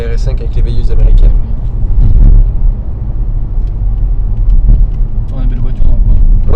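Opel Grandland X driving over a bumpy, potholed village road near Montpellier, a loud constant cabin rumble with low thumps from the uneven surface, while people talk throughout.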